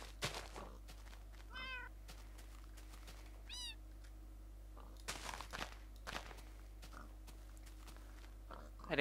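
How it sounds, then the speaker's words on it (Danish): Cats and a kitten meowing indoors, two short rising-falling meows standing out over a low steady hum, with scattered clicks, footsteps and handling noises around them. "Er det en kat mere, det der?"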